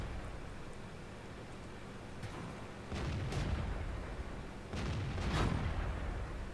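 Tank cannon fire in World of Tanks with a Chi-Nu and T29, two or three heavy booming shots over a constant rumbling game ambience, fairly loud and close.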